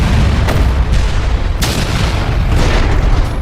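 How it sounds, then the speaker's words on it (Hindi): A plane wreck explodes in a movie scene, a loud, continuous roaring blast with repeated booming surges that stays dense and heavy throughout, with no voices. "एक भयानक विस्फोट हो गया।"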